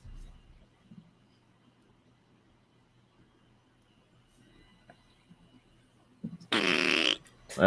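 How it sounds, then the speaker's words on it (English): Near-silence with faint background rumble, then a loud, buzzy fart about a second long near the end. "That was a fart instead"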